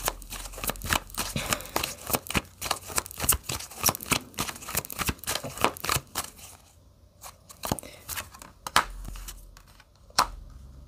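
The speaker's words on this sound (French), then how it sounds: "Alors, on va prendre quelques cartes du tarot." Tarot cards being shuffled by hand, rapid crisp riffles and flicks in quick bursts, close and clear, thinning to a few isolated snaps toward the end with no talk.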